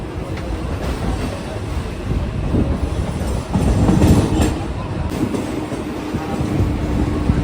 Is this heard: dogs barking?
no